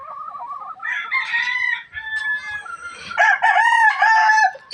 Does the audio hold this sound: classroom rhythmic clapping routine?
no